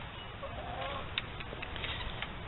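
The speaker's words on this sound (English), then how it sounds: "I have 13 hens." Hens in a garden flock of thirteen clucking softly: several short, scattered clucks over a steady background hiss, fairly faint and with no talking.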